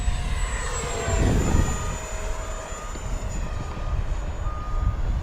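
A small HobbyZone Arrows RC BAE Hawk 50mm electric ducted-fan jet runs at full throttle with a steady high whine, its pitch sliding slightly as it passes, over outdoor wind rumble.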